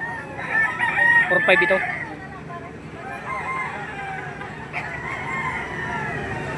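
Chickens cluck and a rooster crows loudly near the start at a livestock auction market in Lipa, Batangas, Philippines, with someone talking over the farmyard noise and more fowl calling throughout.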